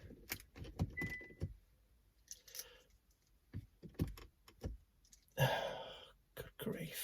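Car keys jangle and click in a hand in short, scattered bursts, with soft talk and sighing between them.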